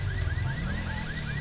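A repeating electronic alarm wails in a steady pulsing rhythm over a deep engine-like rumble in LSPD First Response, a police mod for GTA V, with no one speaking.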